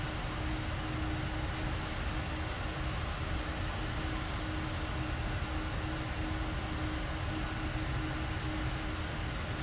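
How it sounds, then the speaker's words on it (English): Steady roar of the Pratt & Whitney engines on a PMDG MD-11 airliner in the FSX flight simulator, a dense continuous rumble with an even tone running throughout, loud and unbroken, with no voices. "they did still get a great sound of the Pratt & Whitneys of this aircraft"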